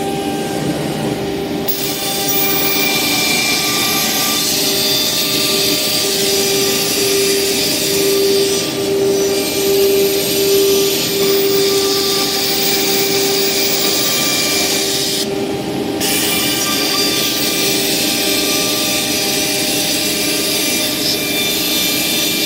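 Steady loud whirring of a CNC machine cutting with dust extraction running, run from a Syntec controller; a continuous drone with a constant tone and brief dips, no talking.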